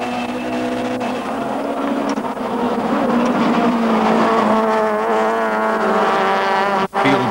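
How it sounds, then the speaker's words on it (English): Touring car race engines roar in a loud, steady onboard drone from a BMW at Kyalami, with harmonic engine tones rising and falling through the gears and a brief dropout near the end. "Race cam action now from the Briggs Sassel BMW"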